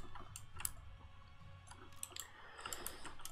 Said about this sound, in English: I'll have to see about getting a more silent keyboard at some point, because it does make a lot of noise